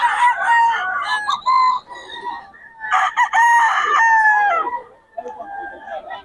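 Roosters crow loudly and close by, two long drawn-out calls with clucking and other birds around them.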